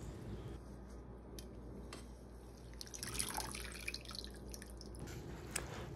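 Rinsed grape leaves draining, with soft scattered drips and small splashes of water over a low steady background hum, close and quiet, no voices.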